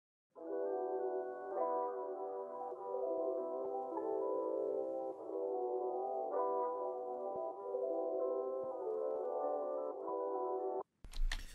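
A sample slowed to halftime in FL Studio, heavily low-pass filtered with EQ and multiband compression, plays as a soft, muffled, cloudy chord pad with swelling sustained tones. It cuts off abruptly with a short burst at the end.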